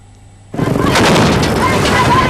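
Loud, dense gunfire and booming blasts of a battlefield erupt suddenly after a brief quiet start, then roar on continuously without letting up.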